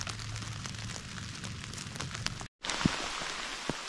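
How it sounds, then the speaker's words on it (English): Heavy rain falls through a Finnish forest in Liesjärvi National Park, a dense steady patter with sharp droplet hits, briefly cut silent near the middle before resuming just as strong. "Well, the rain came down finally, and it's coming down fairly heavy"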